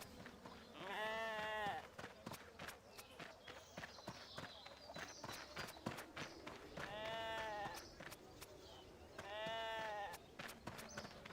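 Three distinct sheep bleats come from the RuneScape 3 video game, spaced several seconds apart, each loud and wavering, with rapid clicking footsteps and faint game sounds between them.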